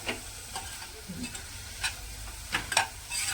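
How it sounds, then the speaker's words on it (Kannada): Onions frying in a pan for a drumstick stir-fry (nugge kayi palya), a faint low sizzle under intermittent soft scrapes and clinks of a spoon stirring, one brief low murmur in between. "ಇದೊಂದು ಸ್ವಲ್ಪ ಫ್ರೈ ಆಗಬೇಕು"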